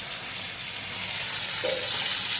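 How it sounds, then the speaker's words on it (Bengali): Food frying in a pan before capsicum is added, a continuous bright sizzle with soft stirring scrapes, steady and close, without talk. "এটাকে ভালো করে একটু ভেজে নিই, তারপর ক্যাপসিকামটা দিই"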